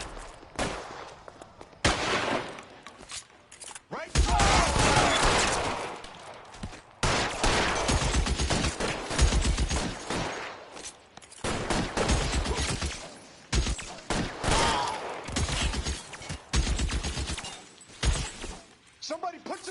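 Gunfire in the L.A. Noire video game during a shootout, loud bursts of shots and blasts filling most of the stretch, interrupted by short gaps, with game dialogue voices mixed in.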